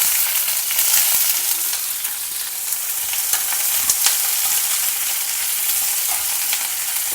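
Onion slices sauteing in a pan of hot oil with mustard seeds, urad dal and chana dal, a steady sizzle with occasional stirring scrapes, close and fairly loud, no talking.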